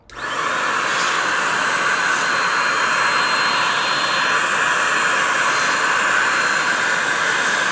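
A DataVac electric duster blower starts up and runs with a loud, steady high-pitched whoosh and whine, unchanging throughout, close by.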